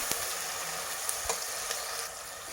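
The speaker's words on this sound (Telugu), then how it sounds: "గోల్డెన్ బ్రౌన్ వచ్చేదాకా వేయించుకోవాలి." Onions and green chillies frying with salt in a pan for egg biryani, a steady soft sizzle with occasional scraping stirs, heard close and alone.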